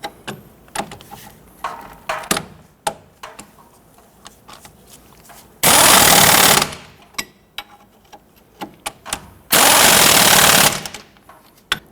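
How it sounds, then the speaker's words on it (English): An impact wrench fires two loud, sustained bursts while tightening the knuckle bolts on a 1992-1996 Toyota Camry front strut assembly, with clicks and clanks of tools and parts between them. "Tighten down our knuckle bolts here."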